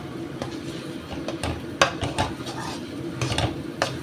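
A spatula scrapes and stirs pumpkin halwa and ghee around a wok, giving repeated metallic scrapes and clinks in an irregular rhythm, close and moderately loud, with no voices.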